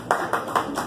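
A bar comedy audience gives a quick burst of scattered clapping, about four separate claps in under a second, fairly faint.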